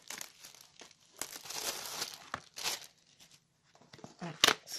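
Plastic packaging around Shein coasters is crinkled and torn open in short bursts of crackling, close and fairly quiet, separated by brief pauses and ending in a sharp rip.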